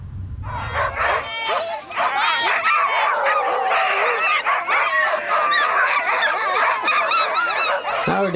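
A team of sled dogs barks and yelps in a loud, continuous overlapping chorus close by, the excited yaps and howls piling on top of one another after a brief rumble at the start.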